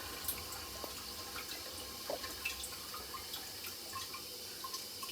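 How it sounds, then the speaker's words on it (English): A household toilet upstairs, just repaired, flushing: faint, steady rushing and trickling water with small drips and gurgles, heard alone at low level. "There's a nice good flush there."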